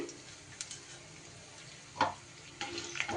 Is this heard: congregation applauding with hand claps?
no